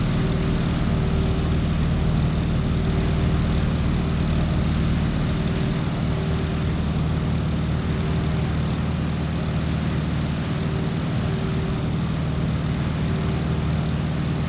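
A propeller airplane engine in the Microsoft Flight video game runs with the mixture rich and prop RPM at full on a landing approach, giving a loud, steady, unbroken drone for the whole stretch.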